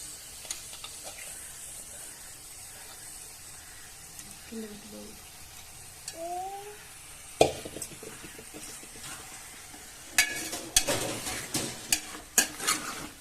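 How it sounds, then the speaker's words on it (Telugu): Washed chicken pieces go into a hot pan and begin frying, with stirring and scraping clatter against the pan growing busier toward the end, under a low steady kitchen hiss; a voice briefly sounds partway through. "మనం కడిగి పెట్టుకున్న చికెన్ ఉంది కదా మంచి కడుక్కున్న చికెన్ ఉంది కదా దీన్ని వేసేసుకోవాలి"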